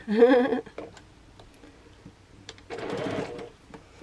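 A sewing machine stitches a quarter-inch seam across pieced quilt-block fabric in two short bursts of rapid, close mechanical whirring separated by a pause, with a single spoken word at the start.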